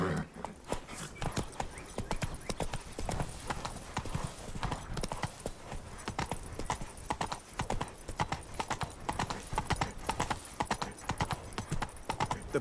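Horse galloping in The Witcher 3: Wild Hunt, rapid steady hoofbeats drumming close and loud throughout, with a faint neigh and occasional faint game sounds underneath.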